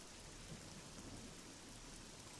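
A lightning spell cast from a staff in the video game Oblivion gives a loud, broad crackling rumble like a thunderstorm, a dense sustained roar that holds steady for a couple of seconds with no voices over it.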